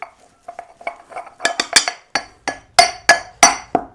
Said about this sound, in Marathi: आपल्याला फक्त ह्या खलबत्त्यामध्ये कुटून घ्यायचे आहेत